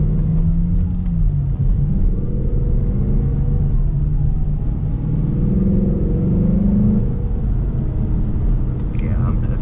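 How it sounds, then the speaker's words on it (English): A Ford GT-class car drives along with a steady, loud engine drone and mechanical whine from a noisy transmission, rising and settling in pitch as the car pulls through gears, heard from inside the cabin. "the transmission makes a ton of noise"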